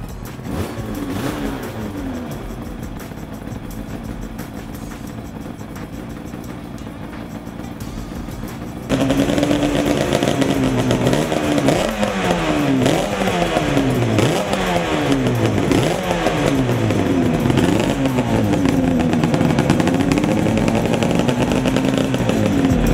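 A 1970 Yamaha motorcycle idles roughly at first, then roars louder as its engine revs up and down in repeated rising and falling bursts, close and without speech.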